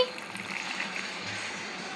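Jaggery water is poured, making a faint, steady liquid trickle that runs on its own for a couple of seconds.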